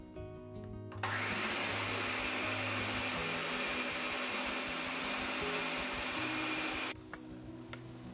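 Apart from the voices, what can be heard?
blender pureeing tomato soup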